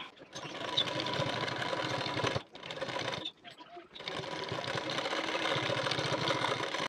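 A sewing machine runs in steady bursts while stitching a neck strip onto the front panel of a designer nighty, with a short pause partway through before the fabric-feeding whir resumes close by.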